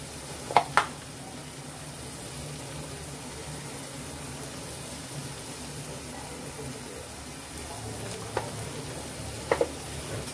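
Cowpea leaf greens with onion and grated fresh coconut sit in a pan under a soft, steady sizzle, with a few quiet scraping clicks of a spoon stirring them.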